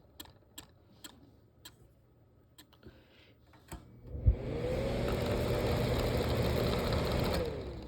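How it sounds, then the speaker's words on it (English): A mini windmill gives a few faint clicks, then a steady, fairly loud whir. Near the end the whir's tone slides down as the rotor spins down after being shut off. "we'll go ahead and shut it off. Has a pretty decent spin down time."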